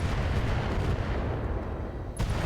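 Heavy Long Tom artillery fire from a Bull Shark mech in the RogueTech video game: a loud, sustained booming roar that rolls on for a couple of seconds, with a fresh blast erupting near the end.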